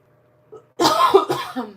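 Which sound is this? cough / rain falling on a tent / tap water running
cough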